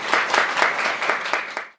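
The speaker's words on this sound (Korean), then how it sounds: "여러분 다시 한번 박수로 이렇게 맞이해 주세요" A studio audience breaks into applause to welcome an ophthalmologist guest onto a Korean talk show, steady dense clapping with a few sharper swells, close and lively, fading out quickly at the end.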